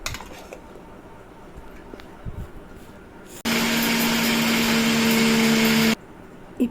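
A kitchen mixer grinder blending tomatoes and curry leaves for rasam starts abruptly after quiet kitchen sounds, running as a loud, steady motor whine for about two and a half seconds before stopping sharply.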